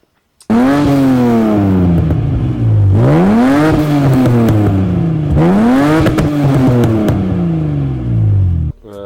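An Opel Monza GSE with a custom exhaust and no catalytic converter revs hard three times, each rise climbing to a loud raspy peak and falling back, close and unbroken with no voices.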